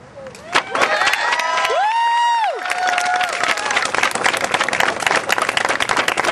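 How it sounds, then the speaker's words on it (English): Crowd at a student peace rally in Des Moines bursts into loud clapping and cheering, with a few high whoops rising over the sustained applause. "Another round of applause, please."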